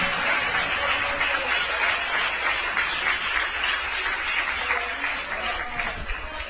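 A church congregation applauds joyfully, producing dense, sustained clapping from a large crowd that stays loud and steady throughout.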